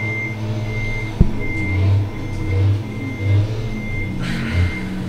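A truck pulling a trailer sounds its reversing alarm, a steady series of evenly spaced high beeps over a low, rumbling engine idle, fairly close and clear.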